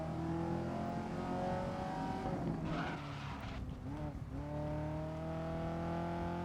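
A race car engine in the GRID video game revving hard, steady loud droning tones that dip and climb again as the car brakes and accelerates, with a short messy stretch of mixed noise mid-way.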